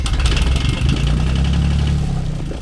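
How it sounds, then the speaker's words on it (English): A boat's inboard engine rumbles at a steady idle after being cranked, a loud, close, continuous low churn with a faint knocking texture and no talking. "Good thing I decided to crank the engine before people start driving down here."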